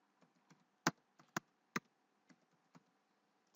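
Several keys are pressed one by one on a computer keyboard in a quiet room. The crisp, separated taps are close and come at an uneven rhythm, some louder than others, with silence between them.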